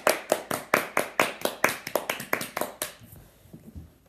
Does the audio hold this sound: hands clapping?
yes